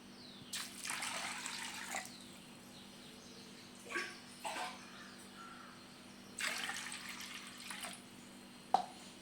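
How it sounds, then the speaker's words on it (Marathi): Soaked chana dal is washed in water, with several bursts of splashing and sloshing separated by quieter pauses and a small knock near the end. "बघा आता ह्याला स्वच्छ धुवून घेऊ आपण।"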